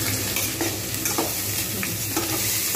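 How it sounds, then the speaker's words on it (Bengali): Potato and cauliflower pieces frying in a pan for a home cauliflower paneer dish, a dense continuous sizzle with repeated stirring scrapes of the spatula, close and steady, no voices. "আলু এবং ফুলকপি খুব সুন্দরভাবে ভাজা হয়ে গেছে।"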